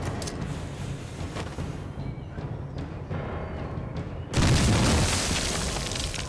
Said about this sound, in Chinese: 试手榴弹啊